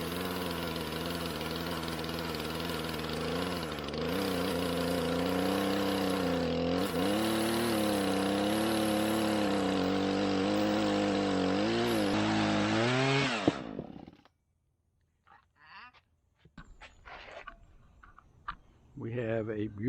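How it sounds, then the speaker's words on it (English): A chainsaw runs hard cutting through an old wooden boat keel, loud and close with the engine pitch rising and dipping under load for about thirteen seconds, then cutting off to quiet handling noises and some speech. "I'm gonna cut it with a chainsaw"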